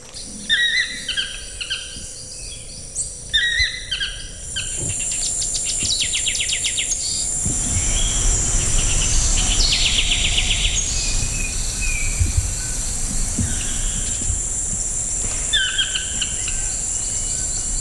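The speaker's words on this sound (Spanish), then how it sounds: "la mayoría de las especies que se escuchan acá son aves" Tropical birds whistle and chirp in repeated phrases over a steady, dense drone of insects and crickets in the Osa rainforest, with layered calls near and far and no voices.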